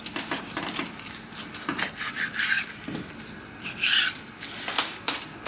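A knife saws through a cut of beef to take off a thick steak, producing soft rubbing, scraping strokes in an uneven rhythm, close and quiet.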